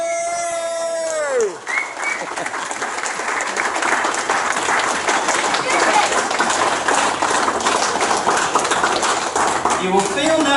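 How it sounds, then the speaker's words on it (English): Wedding guests give a sustained round of applause and acclaim for the couple, loud dense clapping from the whole room following a short burst of music, with a voice returning briefly at the end. "would you join me in just, if you're able to, standing for a moment, round of applause and acclaim Mark and Emily"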